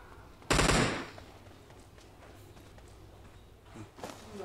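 A single loud, close gunshot cracks out from a gun being test-fired, then fades into quiet outdoor background with faint rustling.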